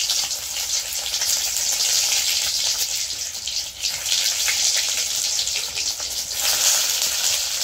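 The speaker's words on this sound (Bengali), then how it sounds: "তো ডিমটি ভাজা করে লাই আগে" An egg frying in a pan, a loud, continuous close sizzle with a watery hiss that swells and dips slightly but never stops.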